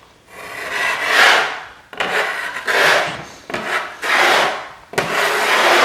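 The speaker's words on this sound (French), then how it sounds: "les deux côtés frottent le mur et du coup l'intérieur j'arrive pas à le racler correctement" A plastering blade scrapes tinted filler across a hollowed wall surface in long rasping strokes, four or five sweeps with short breaks between them, loud and close with no talk.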